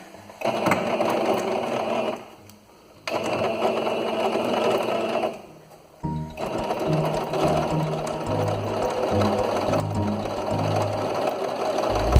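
Domestic sewing machine running in three long bursts while stitching the two halves of a parrot-beak style fabric protective mask, with brief pauses between runs, steady mechanical whirring close up.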